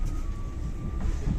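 Škoda 16EV electric train pulling out of Riga railway station, a low rolling rumble with a thin steady whine above it, close and loud, no voices.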